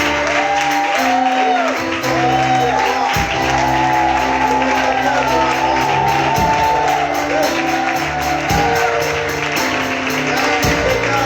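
A church congregation cheers and claps, with a steady crowd wash, shouts and whoops over sustained music tones.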